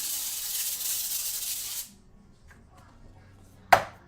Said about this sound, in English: my avocado oil spray.